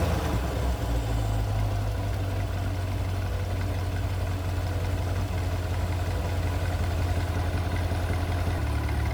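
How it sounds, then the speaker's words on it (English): A Chevrolet Corvette C8 on its factory exhaust idles with a steady, deep, loud rumble that holds evenly throughout, with no talking. "that's some damn good sounding exhaust for a completely factory exhaust"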